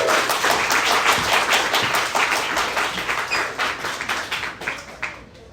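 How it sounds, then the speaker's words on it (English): Audience applause fills a reading event at the Globe, dense clapping from a crowded room that holds steady for several seconds and then thins to scattered claps before fading out. "Please, a round of applause for her."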